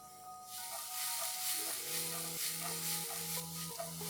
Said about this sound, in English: To this, let's add in chopped French beans and along with this, chopped capsicum.